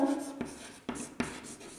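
Someone writes on a board during a grammar lesson: soft scratchy strokes broken by a few sharp taps, close and without speech.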